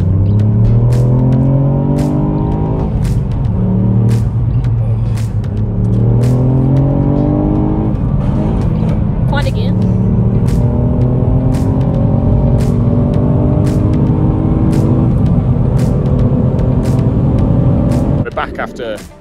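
Ford Fiesta ST engine pulling through gears on a short loop around Woodstock, a steady droning note rising and falling with each shift, loud and continuous, with a person talking over it throughout.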